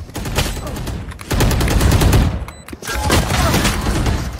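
Loud, close volleys of automatic gunshots in the tactical shooter Valorant, two or three dense bursts separated by brief gaps, with faint voice chatter underneath.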